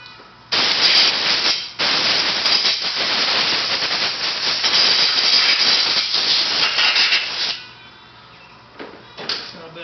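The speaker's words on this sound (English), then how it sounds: "after you blow it out with the air hose" An air hose blows compressed air over an engine part during a K-mod cleanup, a loud continuous broadband hiss that runs in long bursts for about seven seconds, briefly cuts out, then ends with short sputtering puffs.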